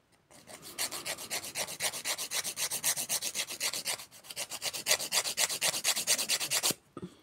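Filing fiber rubber gel nails: rapid rhythmic rasping strokes, close and crisp, running in two long bursts separated by a brief pause, with no talking.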